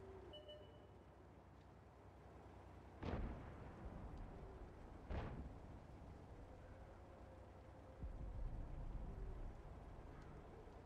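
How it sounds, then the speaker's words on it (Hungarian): Tank shells strike the snow in a World of Tanks battle: two sharp, booming impacts a couple of seconds apart, followed later by a duller rumbling hit, all over a steady low engine drone. "Hallani, hogy ide lőn a lövedék, mindig becsapódik a hóba."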